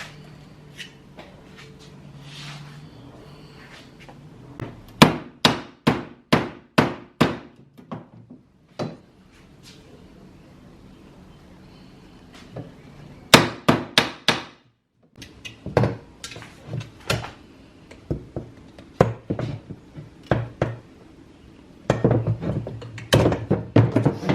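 A horse trailer is being hammered during a rehab, giving sharp, loud repeated knocks in uneven runs with short pauses between groups. No voices are heard.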